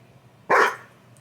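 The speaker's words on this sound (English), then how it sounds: "Sorry, my dog is barking." A single short dog bark, moderately loud and fairly close, cuts through a quiet indoor room with a low hum, then fades quickly.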